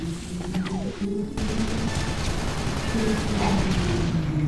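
Gunfire crackles and rattles in the video game Loadout, a dense, continuous barrage of shots and impacts that holds at steady loudness throughout.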